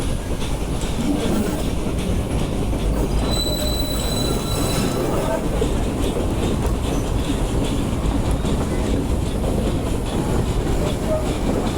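The Nilgiri Mountain heritage train runs out of Mettupalayam toward Coonoor. A continuous close rumble of wheels on rail carries through, with a brief high wheel squeal early on.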